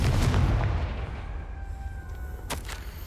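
Confringo blasting spell detonating in Hogwarts Legacy, a loud booming explosion up front that rumbles and fades over a couple of seconds, followed by a brief sharp crackle near the end.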